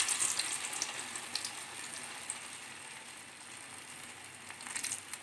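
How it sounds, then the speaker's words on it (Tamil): Urad dal vadas (ulundhu vadai) fry in hot oil with a steady, close, bubbling sizzle and crackle. Brief bursts of spattering come at the start and near the end. "எண்ணெய் காஞ்சிட்டு சூடாகிட்டு நம்ம வடையை தட்டி போடலாம்"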